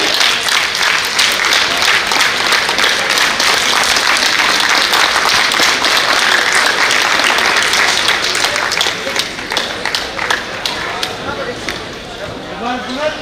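A large audience at a JITO gathering in Balotra applauds loudly after a motivational speech, dense clapping that stays strong for several seconds before gradually thinning and softening.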